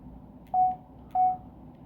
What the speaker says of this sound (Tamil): அதை கிளிக் பண்ணால் Bluetooth key tackle beep sound வந்துனே இருக்குது.